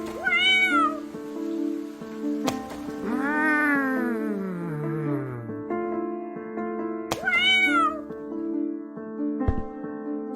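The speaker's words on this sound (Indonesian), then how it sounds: "Husni melempari kucing-kucing yang berlewatan dengan batu." Cats meowing in a cartoon scene with stones thrown at passing cats, several drawn-out, rising and falling meows loud and close over a steady tonal background, with a couple of sharp thumps between them.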